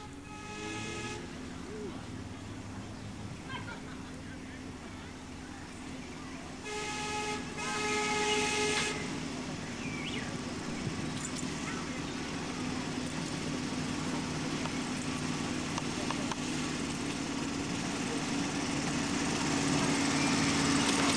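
Miniature railway locomotive D7031, working trains on the Grosvenor Park miniature railway, toots its horn in short bursts over a continuous mechanical drone, with a whistle-like tone and outdoor background noise throughout.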